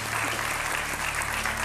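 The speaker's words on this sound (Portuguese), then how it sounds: "Um aplauso para eles também." Studio audience applause on a Portuguese afternoon TV talk show, steady dense clapping filling the short stretch at moderate loudness, with no voices over it.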